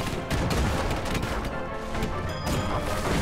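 Rapid gunfire pours from an airship in the steampunk strategy game Airships: Conquer the Skies, a dense, continuous barrage of loud crashing shots and booms close up.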